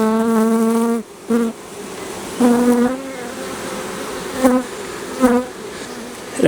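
Honey bees buzz at an open hive during a frame inspection, a steady droning hum with several louder, pitched swells as bees fly close past, continuous and near throughout.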